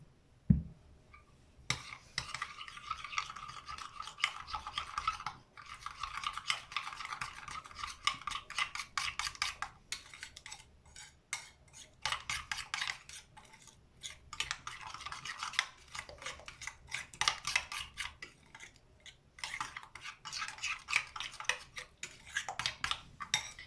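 Chicken being mixed by hand with salt, pepper and seasoning in a dish, giving steady wet rubbing and scraping with frequent clinks of utensil against the dish, close and fairly quiet, no talk.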